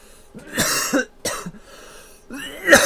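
Several harsh, broadband coughs in separate bursts, close to the listener, with a throat-clearing rasp and short pauses between them.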